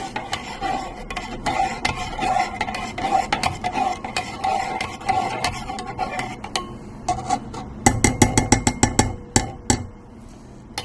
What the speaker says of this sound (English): I'm going to just stir it a little bit.